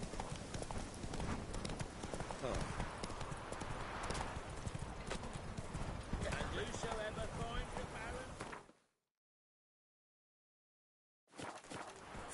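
Galloping horse hooves in The Witcher 3, a steady, loud clip-clop rhythm running continuously for several seconds, then cutting to silence before resuming briefly.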